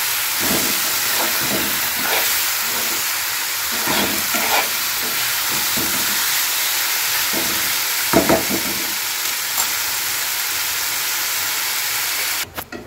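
Marinated chicken stir-fried dry in a pan for a Bengali dhaniya chicken dish, a steady close sizzle and hiss with intermittent scraping stirs, continuing without talk until a brief clatter at the end.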